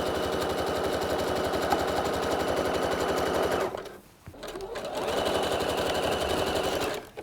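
A sewing machine runs a fast, even stitch along a trouser seam, pausing briefly about halfway through before starting up again at the same steady rhythm.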